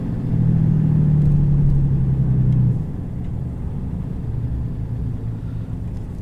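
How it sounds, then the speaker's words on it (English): A 2018 RAM 2500HD Laramie with a Cummins diesel engine driving with its exhaust brake engaged, giving a loud steady low drone that drops to a quieter rumble partway through, with no voices. "So the way the exhaust brake works is it closes the valve and essentially it uses it to spin the turbo a little bit"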